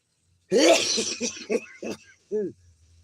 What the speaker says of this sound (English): Damn, I got sneeze.